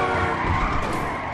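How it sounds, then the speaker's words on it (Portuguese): A car drifting in GTA V Online, its tires squealing in one sustained, loud skid with engine noise underneath, close and continuous. "olha esse drift"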